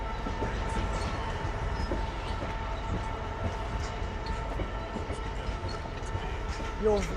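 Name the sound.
long Drax freight train passing Doncaster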